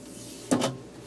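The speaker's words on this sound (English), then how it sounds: "First thing we're going to want to do is take off the door." Side door latches on a 2010 Apple Mac Pro 8-core Xeon tower being released and the metal door lifted off, a brief double clack with a short sliding scrape, close and distinct in a quiet room.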